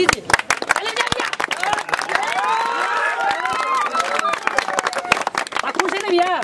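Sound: audience clapping for pani puri challenge winner

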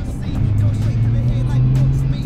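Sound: sports car accelerating hard

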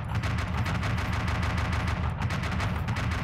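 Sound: gunfire at pirate ship in BeamNG Drive video game

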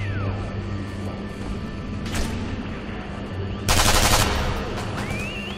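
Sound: MP40 submachine gun firing in a World War II shooter video game

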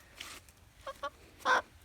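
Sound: young chicken clucking

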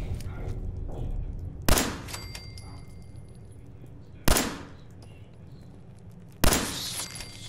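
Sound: gunshots from the video game Fallout 4

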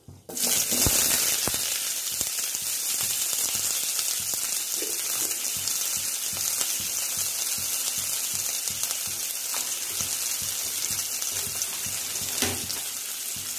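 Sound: chopped onions sautéing in oil

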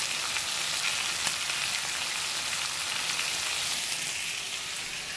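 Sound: bacon frying in a pan

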